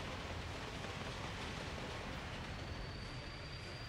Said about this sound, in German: Einfahrt in den Hauptbahnhof nach Jekaterinburg.